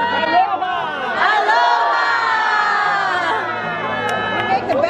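A lively crowd at a Hawaii gathering cheers and shouts together, loud sustained whooping and yelling voices close by, with a few sharp peaks near the end.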